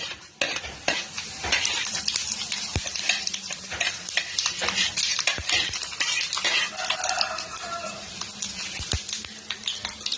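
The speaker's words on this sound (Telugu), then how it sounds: "ఇప్పుడు ఒక్కొక్కటిగా ఆవాలు, జీలకర్ర వేసేసుకుందాం" Mustard and cumin seeds sizzling and crackling in hot oil, with frequent sharp pops and metal stirring clatter against the pan throughout.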